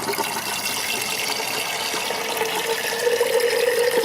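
Water flowing from a lever valve into a garden hose that feeds a vegetable garden, a steady rushing hiss that holds evenly throughout with no voices.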